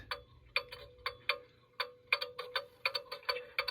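A clock ticks steadily while its beat is being set, with sharp, close tick-tock strokes spaced about half a second apart, slightly uneven, against a quiet background.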